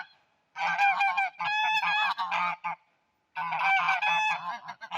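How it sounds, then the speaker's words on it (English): Domestic geese honk loudly and close by in two long bursts of overlapping harsh calls, separated by a short quiet gap, with no talking. "I love my geese."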